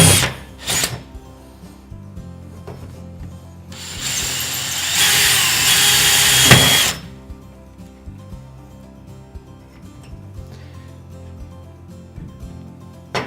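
Power drill boring a screw hole into wood while rack shelving is installed, one loud sustained whir of about three seconds, with faint clicks and handling knocks before and after.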